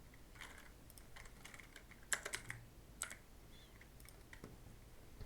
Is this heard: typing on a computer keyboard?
yes